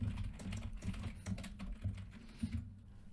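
Python code being typed on a computer keyboard, a quiet, quick run of soft key clicks in irregular bursts, with no voice heard.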